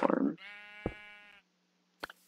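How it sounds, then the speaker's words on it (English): A Minecraft sheep gives one clear, drawn-out bleat close by, followed by a short second bleat after a pause, with a brief burst of other game noise at the start. "Oh, that's a nearby sheep"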